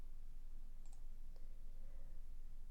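A couple of light, sharp computer mouse clicks sound faintly over a steady background hiss while someone works in medical record coding software.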